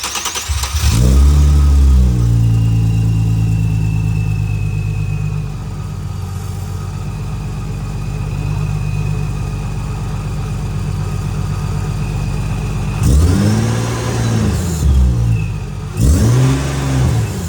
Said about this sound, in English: Now I'm gonna start the car, check the fuel bolt again.